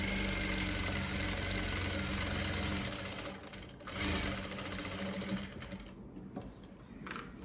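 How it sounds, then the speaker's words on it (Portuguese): A sewing machine runs steadily while stitching a straight seam on a dish towel, a continuous close mechanical whir that pauses briefly and then resumes in shorter bursts. "você consegue manter aí a linha e fazer uma costura reta"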